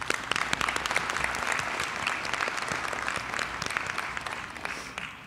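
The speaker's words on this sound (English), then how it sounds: "Let's give our class of 2021 a round of applause." Applause for the class of 2021 at a high school signing day: a crowd claps steadily and fairly close for about five seconds, dense and even throughout.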